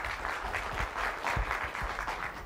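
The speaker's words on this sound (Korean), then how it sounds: "배순훈 교수님을 큰 박수로 단상으로 모시도록 하겠습니다." An audience at a KAIST lecture claps steadily and fairly loudly to welcome Professor Bae Soon-hoon, a dense, even patter of many hands with no talking.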